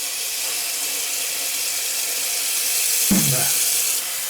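Water running steadily from a tap into a sink during a shaving-kit wash down, a continuous loud rushing stream with a brief splash change near the end.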